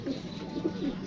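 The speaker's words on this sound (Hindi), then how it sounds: "पुराने परों पे कबूतर माशाल्लाह देखें" Rooftop pigeons with old-style plumage coo softly in a steady run of low, throaty calls, close by and unaccompanied by talk.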